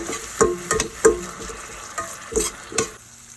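Soaked moong dal is tossed into a hot tempering for a Marathi dill-leaf (shepu) dish: close, steady sizzling broken by several sharp scrapes and clinks of a spoon stirring in the pan.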